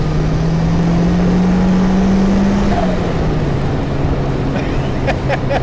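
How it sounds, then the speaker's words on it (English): Turbocharged Ford Capri MK3 with an ST170 engine, heard from inside as a steady loud drone rising slowly then easing off, with faint clicks near the end as the wastegate releases. "I just love that wastegate."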